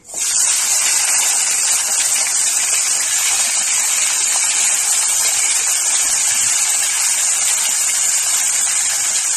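Cauliflower, radish and other mixed winter vegetables hit hot oil tempered with five spices in a wok, bursting into a loud, sudden sizzle that holds as a steady, close hiss with no voices.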